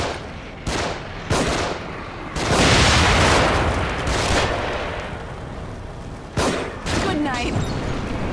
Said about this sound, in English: They're shooting from above.